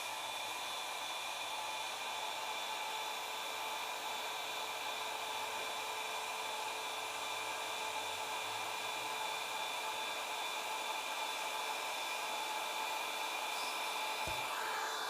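A hot air welding gun blows a steady, loud hiss like a hair dryer while welding Altro Whiterock hygienic wall cladding sheets, continuous throughout with a brief low thump near the end and no talking.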